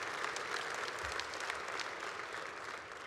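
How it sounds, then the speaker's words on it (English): An audience at a corporate partnership dinner breaks into applause, a dense, even patter of many hands clapping that holds steady and fades slightly toward the end. "Please give yourself a round of applause."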